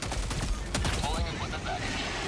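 Plasma grenade launcher fire and explosions in the video game Helldivers 2, heavy overlapping blasts and crackling combat noise that is loud and dense throughout, with voices mixed in.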